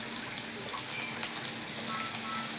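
Cumin paste frying in a pan, a steady, dense sizzle that holds at an even level throughout with no talking.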